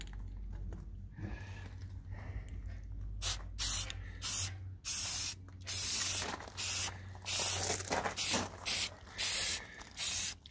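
Short bursts of aerosol spray hiss close by in a rapid series of repeated blasts as a first coat of paint goes onto a metal skid plate, with brief pauses between the sprays.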